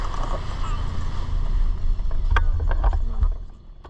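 A paramotor engine runs at a steady drone during a paragliding flight, close and loud, with heavy wind rushing over the microphone and a few sharp clicks and knocks near the end.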